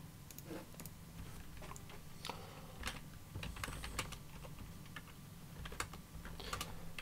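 Router configuration command typed on a computer keyboard, a quiet, irregular run of close key taps and clicks with no speech.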